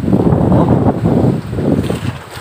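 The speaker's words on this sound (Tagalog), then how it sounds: "ang lakas ng Amihan" Strong northeast monsoon wind (Amihan) roars steadily across the microphone at sea off Occidental Mindoro, a heavy rushing gust with faint sea noise of whitecapped waves beneath it and no voices.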